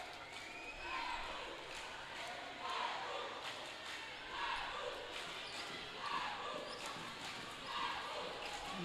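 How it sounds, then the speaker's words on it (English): Women's national basketball team of New Caledonia cheering from the stands during a FIBA Melanesian final against Papua New Guinea, rising crowd shouts in waves over continuous arena noise, with commentary talking over it. "Those are the cheers from the women's national team."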